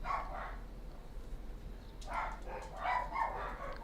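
Dogs bark indoors at some distance, in a short burst near the start and then a longer run of barks toward the end, over a steady low background hum.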